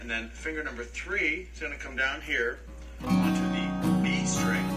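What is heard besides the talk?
None of the usual background noises is heard.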